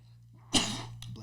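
A single close, sudden sneeze in a quiet indoor setting, one sharp burst followed by a brief fading breath.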